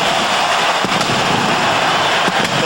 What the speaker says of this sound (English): They set off the cannons because they're at the other end of the field